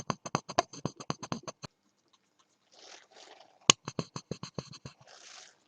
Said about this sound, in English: So I'll just rub my finger on the tape